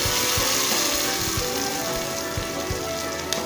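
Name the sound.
onions frying in oil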